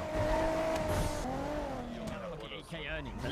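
A car engine in a video game hums and revs with a rising, wavering tone, fairly close and steady throughout, with people talking over it.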